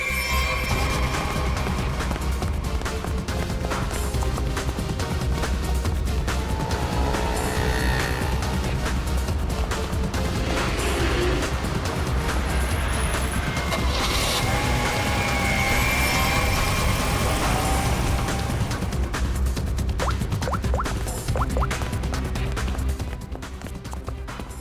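Car pulling away in a Hindi crime drama scene, a loud continuous engine rumble with dense background noise and music, steady throughout before easing slightly at the end.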